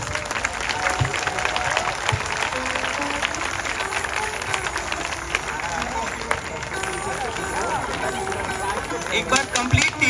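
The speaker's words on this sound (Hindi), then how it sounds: "ऑडियंस के लिए एक बार जोरदार तालियां।" Loud, sustained applause and cheering from a packed theatre audience at a children's Ramleela performance, dense clapping filling the hall with crowd noise throughout.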